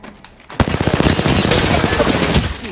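Rapid bursts of automatic gunfire in the video game Apex Legends, loud and continuous after a brief quiet start, with crackling shots layered over one another.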